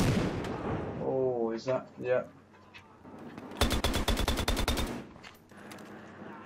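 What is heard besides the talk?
gunfire from a gun in the video game Battlefield Hardline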